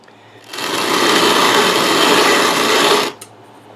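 A Country Living grain mill grinds wheat into flour on a tight setting, a dense rasping grind rising in for about two and a half seconds, then cutting off.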